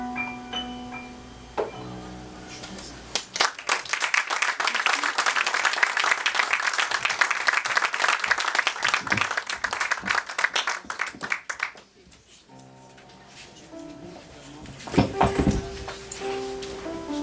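A concert audience applauds a singer, a dense burst of clapping swelling in after spoken introduction and holding for several seconds before fading back to talk.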